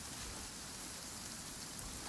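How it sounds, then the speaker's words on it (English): Steady rain in the video game Genshin Impact hisses in a dense, even wash, a soft continuous patter with no voices or other sounds. "I guess the rain is completely taken over this area now."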